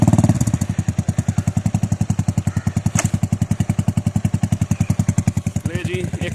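A motorcycle with faulty brakes chugs along a jungle trail at low speed, its engine thumping in a fast even rhythm close by throughout, with someone talking over it.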